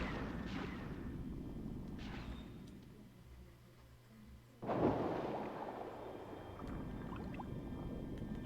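Gunfire from enemies shooting at the player in the video game Heart of Darkness: sporadic muffled shots over a low rumbling background, with one sharper, louder blast about midway and no talking.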